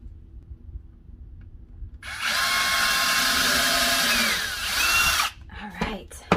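A power drill bores holes in wood for a DIY plant stand. One steady whining burst lasts about three seconds and then stops, and some clatter and handling noise follow.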